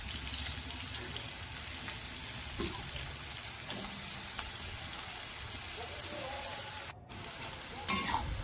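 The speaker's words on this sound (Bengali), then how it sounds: "এর মধ্যে দিয়ে দেবো পেঁয়াজ কুচি পেঁয়াজটা লাল করে ভেজে নেবো" Steady close sizzling of chopped onions frying in hot oil for biryani, continuous throughout, with occasional scrapes of stirring.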